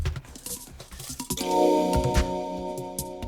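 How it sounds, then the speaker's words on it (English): Washed short grain koshihikari rice strained in a kitchen: wet squishing and dripping at first, then a steady pour of draining water with a ringing metallic tone from the strainer or pot. "So I'm gonna strain the whole thing."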